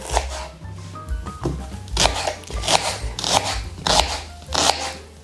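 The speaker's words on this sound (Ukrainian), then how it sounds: "Власне, це цибуля. Її треба порізати або кільцями, або напівкільцями." A knife cutting an onion into rings, giving a steady run of crisp crunching chops in a near, regular rhythm over quiet background music.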